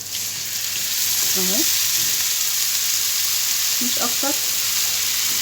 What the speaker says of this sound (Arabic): وعندي كده طماطمايه مضروبه في الخلاط، هنزلها عليها بالراحه.